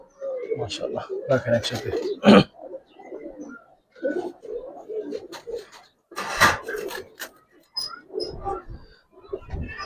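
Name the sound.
Giribaz pigeons cooing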